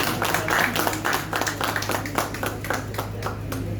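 Audience clapping at a Dogri patriotic song release event, a steady stream of scattered handclaps over nearly four seconds, moderately loud and even, with a constant low hum beneath.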